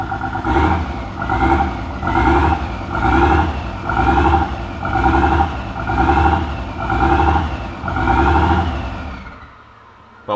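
A Nissan R31 engine that refuses to idle surges in about eight rhythmic rising-and-falling revs, loud and close, before abruptly cutting out near the end.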